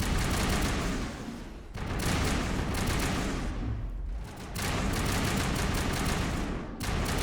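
Heavy sustained gunfire from the Mako armored vehicle in the video game Mass Effect, dense and loud bursts running almost continuously with brief lulls between volleys.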